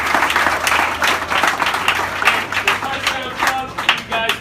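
A round of applause for the parents of freshman football players at a team barbecue, sustained steady clapping from a crowd with scattered louder claps, fairly close and continuous throughout.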